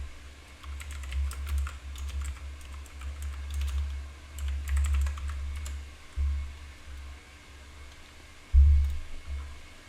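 Steady typing on a computer keyboard, close and continuous, with rapid key clicks running through the whole stretch and a louder burst of keystrokes near the end; no talking.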